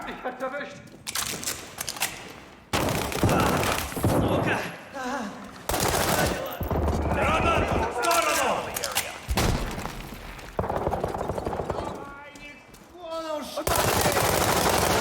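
Gunfire and explosions from a World War 3 video game battle, dense bursts of automatic shots and heavy booms filling the clip, with a voice heard briefly amid the combat.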